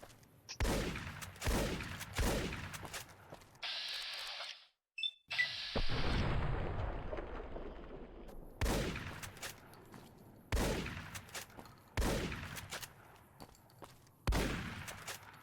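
Shotgun blasts in the Fallout: New Vegas video game, a series of loud, sharp booms spaced about two seconds apart, each with a decaying tail, broken midway by a brief gap and a clatter.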